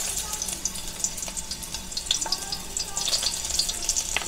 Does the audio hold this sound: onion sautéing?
yes